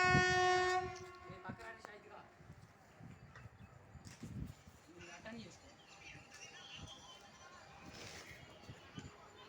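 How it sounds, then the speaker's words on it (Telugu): Train pulling into Pedaa Kakani railway station, opening with a sharp horn blast followed by faint, distant rumbling and clattering of rail cars, with scattered voices and station noise in the background. "ట్రైన్ అయితే దగ్గరకు వచ్చేసింది."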